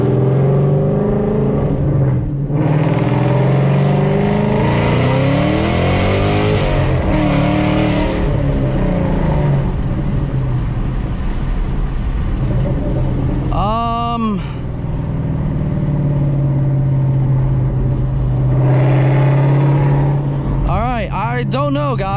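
A supercharged car launched hard in second gear, its loud engine roaring steadily close by with rising whining sweeps breaking through the drone, and a voice speaking over the noise.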